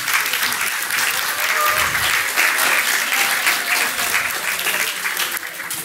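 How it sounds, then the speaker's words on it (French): Applause from the audience welcoming a geography doctoral student onto the stage at a French science talk event, a steady, full wash of many hands clapping continuously throughout at constant loudness. "Vous pouvez l'applaudir également."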